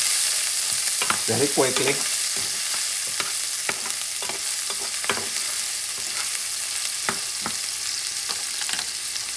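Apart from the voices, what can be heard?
onions sizzling and stirred in a pan to caramelize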